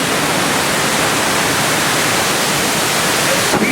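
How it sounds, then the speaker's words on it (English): Artificial waterfalls splash steadily inside the Calico Mine Train ride, a loud, continuous broadband rush of falling water that stays even throughout. "These waterfalls on the inside of the mine ride connect to all of the waterfalls on the outside of the mine ride"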